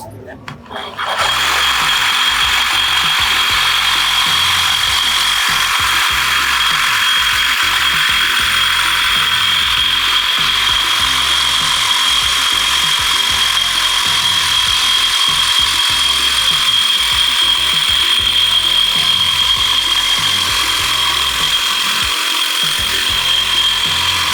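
A circular saw cuts steadily for a long, loud stretch, with a bright, high sustained whine and grinding, up close and without letup.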